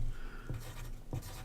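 A marker or chalk writes numbers on a board in a classroom-style lesson, making soft, short scratching strokes a few times in quick succession at close range, with no voices.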